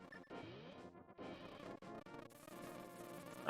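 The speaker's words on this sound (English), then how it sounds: "Scrub's gonna unleash the bees there" Bees released in the video game Zelda: A Link to the Past make a buzzing swarm sound over layered game music, steady and fairly loud for a few seconds.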